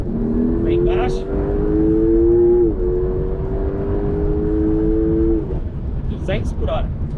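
Porsche 911 Turbo S 992.2 with 711 hp lapping a race track, its engine droning steadily in long rising tones, then easing off under braking from just over 200 km/h, with someone talking over it.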